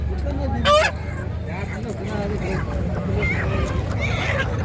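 Ducks and chickens calling at the Lonand poultry bird market in Maharashtra, with a brief sharp squawk standing out over steady crowd chatter and people talking nearby.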